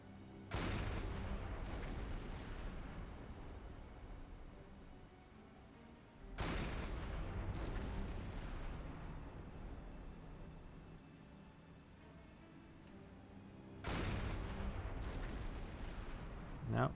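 A U-boat deck gun in the Silent Hunter 5 submarine game fires three heavy booming shots at spaced intervals, each a loud blast with a long rumbling decay, quiet sea ambience between.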